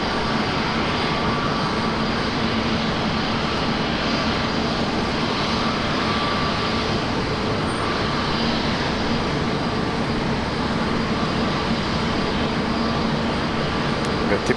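A Qantas jet, flight QF62, lands at Brisbane Airport, its engine roar a steady, loud broadband rumble that holds for the whole stretch without a break.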